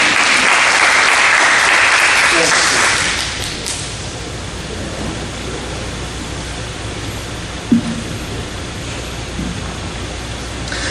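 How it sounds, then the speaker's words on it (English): Audience applause at a morning gathering at Morris Chapel, dense and loud for about three seconds before dying away into quiet room noise with a single sharp knock later on. "Let's clap our hands one more time."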